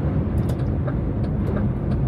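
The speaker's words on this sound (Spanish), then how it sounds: "este es un DAF y hace muy poco ruido el motor" A DAF truck engine idles and cruises with a low, quiet, steady drone heard from inside the cab, even and unbroken with no voices.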